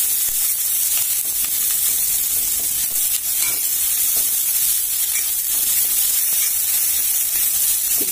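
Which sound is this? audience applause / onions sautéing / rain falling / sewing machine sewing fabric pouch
onions sautéing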